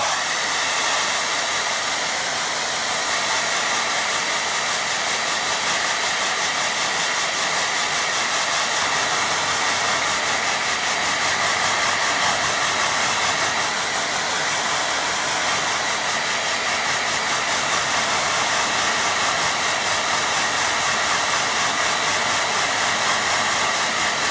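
A hair dryer blows steadily on a watercolour painting of sheep, a loud continuous whooshing hiss with a motor hum that runs unbroken and close for the whole stretch, with no talk.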